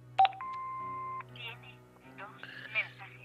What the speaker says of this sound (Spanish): El contestador de Hobbs tiene mensajes.